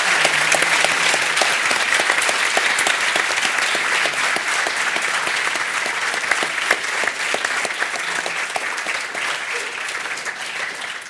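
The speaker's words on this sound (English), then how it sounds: "I'd like a round of applause for our panelists." An audience at a youth forum panel on media and the arts claps for the panelists, a loud, dense round of many hands sustained evenly for over ten seconds.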